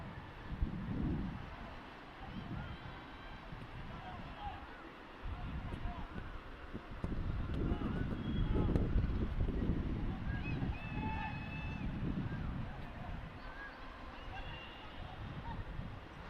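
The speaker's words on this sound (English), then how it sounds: "So it's windy." Wind blowing across an outdoor ultimate frisbee match, a low rumbling buffet on the microphone that swells and fades in gusts, with distant voices and occasional honk-like calls mixed in.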